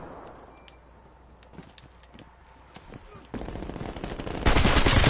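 AK rifle fire in the video game Call of Duty: Cold War. Scattered shots crack over a quiet backdrop, then the gunfire thickens into loud, continuous bursts that grow heavier toward the end.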